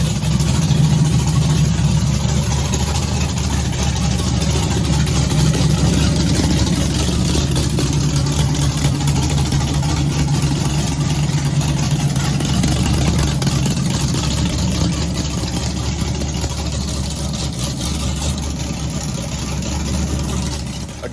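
Idling 1000hp LS-swapped Mazda RX-7, a steady, loud, close engine rumble running alone for the whole stretch with a few slight fluctuations.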